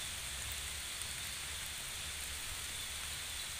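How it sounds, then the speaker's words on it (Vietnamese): Steady rain falls in a dense, even hiss at moderate loudness, unbroken and alone, with no voices. "Đang trời mưa."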